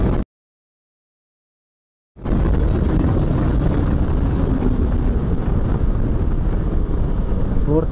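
A Bajaj Pulsar RS200 BS6 motorcycle held at top speed in fourth gear on an open road, with heavy, constant wind roar and engine drone filling the sound after a brief silent gap at the start.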